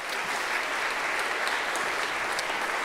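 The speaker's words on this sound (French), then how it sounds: "maître Émeric Mazari, que je vous demande également d'applaudir" Steady, full applause from the audience at a kidney foundation charity gala in 2014 fills the room continuously, with no speech over it.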